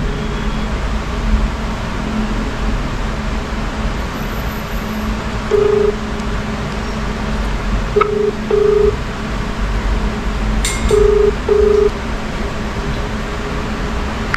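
A phone dials a delivery driver, sending several short, evenly pitched beeps in pairs over a steady background hum of fan or traffic noise.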